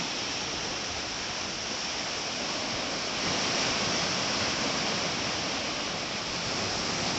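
Steady sea surf washes along the shore of Abkhazia, near Sukhumi, where the coast meets the Caucasus mountains, heard as a broad, continuous rushing hiss that swells slightly partway through, with no voices.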